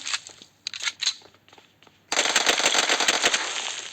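Gunfire in the PUBG Mobile video game: a few scattered, sharp single shots, then a sustained rapid automatic burst that rattles loud and close for the last two seconds.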